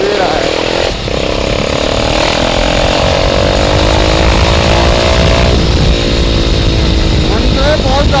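A motorcycle fitted with an aftermarket exhaust revs hard and close, its engine note climbing and dropping in loud, raspy pulls with a brief dip partway through.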